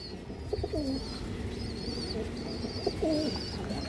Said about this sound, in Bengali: কাজলা গিয়ারের এবং লাল দানা চোখের কবুতর